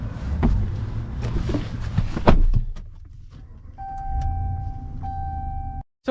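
A Ram 1500 Laramie pickup truck moves off with a low engine rumble, along with a few sharp clicks and thumps from the cabin and a steady electronic chime near the end. No one speaks.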